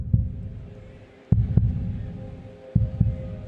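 Heartbeat sound effect, deep thudding double beats repeating at a slow even pace, loud and close over a faint hum.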